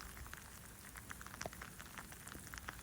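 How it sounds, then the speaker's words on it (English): Rain falls steadily on a Las Vegas street while someone walks through it, a soft continuous hiss scattered with distinct nearby droplet taps and patters. "Okay, still walking in the rain."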